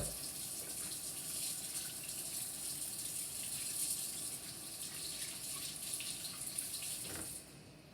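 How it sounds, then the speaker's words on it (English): Hands being washed under a running kitchen tap, a steady close rush and splash of water into a sink that eases off at the very end, with no voices. "So just throw your wrapper out and then wash your hands."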